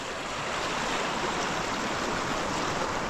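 A mountain river swollen by snow melt in the Sierra rushes steadily, a dense broadband roar of flowing water, constant and fairly close with no voices.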